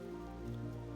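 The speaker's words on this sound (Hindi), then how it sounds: "बारिश हो रही" Steady rain falls on a surface during a mountain trek to Rudranath in the Panch Kedar region, a constant even patter close by with no voices.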